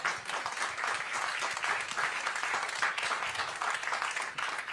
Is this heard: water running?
no